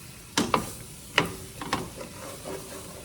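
Onions cooking down in a pan while a utensil scrapes and stirs across the bottom, giving several sharp scraping strokes spaced over a soft steady sizzle, close and fairly quiet.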